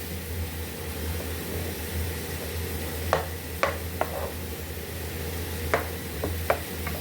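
One kilo of khoya is cooked in a pan for carrot halwa, a steady soft sizzle with scattered sharp scrapes and clinks of a spoon stirring, close and without talk.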